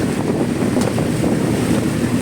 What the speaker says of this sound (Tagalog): malakas yung alon